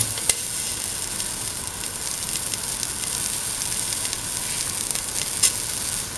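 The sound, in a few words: ginger and shallots sizzling in a pan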